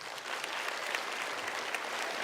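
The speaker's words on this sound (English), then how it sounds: "Big round of applause." An audience claps continuously throughout, a fairly soft but even wash of applause with no speech on top.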